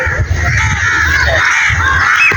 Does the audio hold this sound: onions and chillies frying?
no